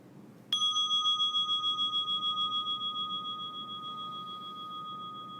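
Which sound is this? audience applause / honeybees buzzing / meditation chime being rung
meditation chime being rung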